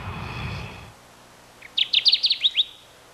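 A Kirtland's warbler in a jack pine forest sings one short, bright, rapid phrase of about eight clear chirped notes, close and distinct, after a brief low rumble.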